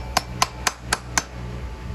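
A waffle head hammer taps five times during an MX motorcycle chain adjustment, each strike a sharp, close metallic tick at an even, unhurried pace, with nothing else over a faint background.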